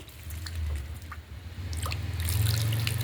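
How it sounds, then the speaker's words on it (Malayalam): Water pours steadily into a home fish tank, a low continuous rush with light splashing and trickling that swells louder toward the end. "നമ്മൾ വെള്ളം നിറച്ചോണ്ടിരിക്കുകയാണേ"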